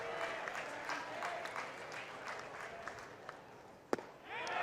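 A college baseball crowd at the Minnesota vs. Oregon State game cheers and claps for the batter. The applause is fairly faint and continuous, with a sharp smack near the end and louder cheering rising after it.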